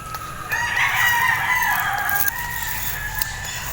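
Several roosters crow over and over, their calls overlapping in a noisy outdoor yard with steady background hum.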